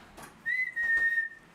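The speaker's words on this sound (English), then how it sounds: "I wanted to whistle and wake him up, and it worked" A person whistles to wake a cat: a single sustained, steady whistled tone lasting under a second, clear and fairly close in a quiet room.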